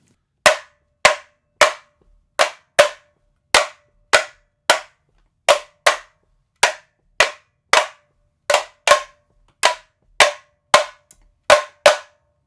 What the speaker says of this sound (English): A son clave sounds something like this.